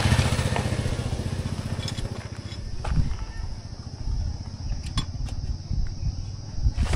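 A motorcycle engine drones steadily during a mountain trek ride, a rough continuous rumble with slight swells in revs and faint rattles over about seven seconds.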